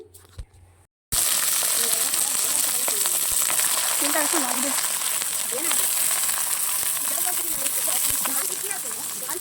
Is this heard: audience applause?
no